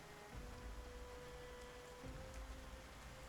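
Steady, faint patter of rain, a soft continuous hiss with occasional louder drops.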